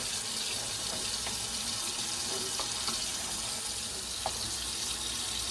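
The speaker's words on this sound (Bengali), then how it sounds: "গরম জল দেওয়া হচ্ছে" Hot water pours into a cooking pot of chicken and rice, a steady continuous gush of liquid heard up close without speech.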